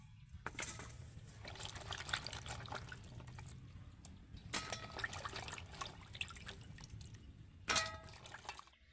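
Water drips and trickles off freshly washed okra resting on a perforated plate, quiet irregular splashes and patters with a few brighter drops, fairly close, with no talking.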